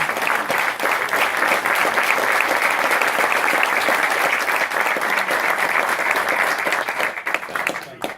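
A large audience applauds at a ceremony at Bethel Woods, a broad sustained wash of clapping that holds steady for several seconds before tapering off, with faint voices underneath.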